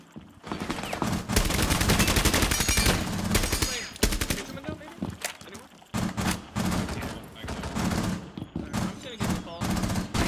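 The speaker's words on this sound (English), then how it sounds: "Yeah, shoot him real quick." Rapid automatic gunfire from Rainbow Six Siege rattles in dense sustained bursts with brief pauses, mixed with game effects while players talk over it.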